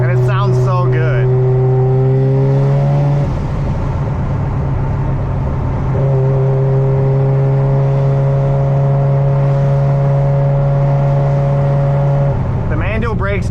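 A Mazda FD RX-7 drives with a loud, steady engine drone that shifts pitch as it changes speed, up close and continuous inside the car.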